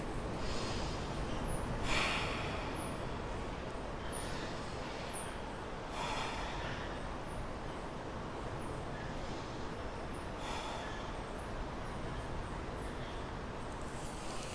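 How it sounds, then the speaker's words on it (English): Slow deep breaths during a hamstring stretch, several long inhales and exhales spaced a few seconds apart, close and soft over a steady background hiss, with no talking. "let's breathe here for about 4 breaths"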